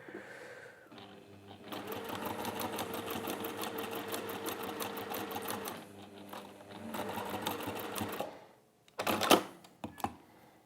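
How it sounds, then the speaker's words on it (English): Sewing machine stitching a fabric seam for a crown pincushion, running in a fast, steady mechanical chatter for several seconds, pausing, then resuming before a few sharp clicks and handling knocks near the end. "it's just making sure that you just sew between the marks each time"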